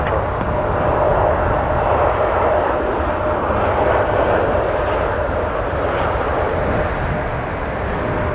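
A Boeing 737-800 airliner on flight 343 at Toronto Pearson produces a continuous, fairly loud jet rumble that stays level and eases slightly near the end.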